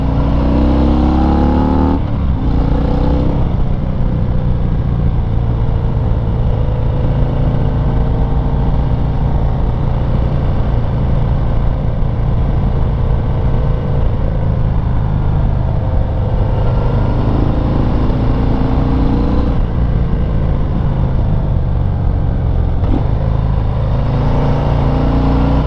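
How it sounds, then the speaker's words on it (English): Harley-Davidson FXDR 114 engine droning loud and steady for a long stretch as the 2019 motorcycle pulls out of corners, deep throaty exhaust with brief shifts in pitch under constant wind rush, no voices. "Motorcycle just absolutely powers out of corners"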